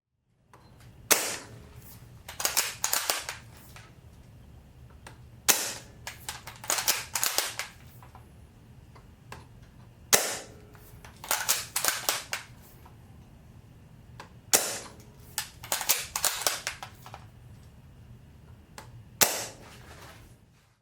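Red Fire airsoft Mosin-Nagant 1891 gas rifle firing a series of loud, sharp single shots, each one separated by a pause of a few seconds, with clicks from the bolt being worked between shots.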